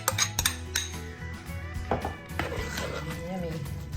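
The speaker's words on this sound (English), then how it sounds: "Mixing a little easier now with milk in it." Meatloaf mixture being stirred with milk in a bowl, a spoon clinking and scraping against the dish in irregular knocks, close and fairly quiet, with a voice talking throughout.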